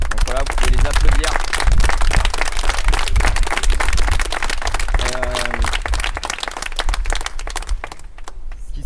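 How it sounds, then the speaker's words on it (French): A loud crowd applauding at a workers' rally during a strike, continuous close clapping mixed with cheers and shouted voices, holding strong before thinning near the end. "Donc voilà, vous pouvez les applaudir."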